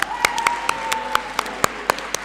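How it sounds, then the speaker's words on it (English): A few scattered claps ring out at a school inter-school debate award ceremony, sparse sharp hand claps at irregular intervals over a faint tonal hum. "Can we have a huge round of applause?"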